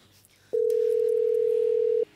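A telephone dial tone on a call being placed from home sounds as one steady, clear beep held for about a second and a half over quiet room noise.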